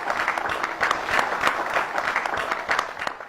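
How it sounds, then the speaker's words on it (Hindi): An audience at an award ceremony for women farmers claps loudly and continuously, many hands producing a thick, sustained round of applause with scattered sharper claps and no voices on top. "जोरदार तालियां एक बार फिर से"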